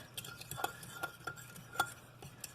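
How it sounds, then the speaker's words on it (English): Fork whisking a dressing in a small bowl for a mushroom mazemen: quick, light metallic ticks and clinks against the bowl in an uneven rhythm, close and fairly quiet. "Get a little fork. And gonna whisk it"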